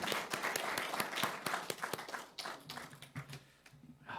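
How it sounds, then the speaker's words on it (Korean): A church congregation at a Sunday afternoon service claps in thanks, quiet, distinct handclaps in a loose, uneven rhythm that thin out toward the end. "우리 하나님께 감사 박수 드리겠습니다."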